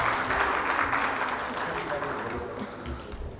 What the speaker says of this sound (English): A huge round of applause for all our panelists